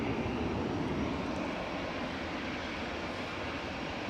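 A Ryanair airliner arriving from Dublin at Manchester Airport gives a steady, fairly distant jet roar that holds broadband and even throughout, with no voices over it.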